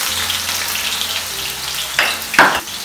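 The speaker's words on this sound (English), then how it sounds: "Our oil is already heated. Now we are going to put some kitungu." Onions drop into already heated oil and fry loudly, with a continuous crackling sizzle and two sharp bursts as more onion hits the pan, close up, with no one talking.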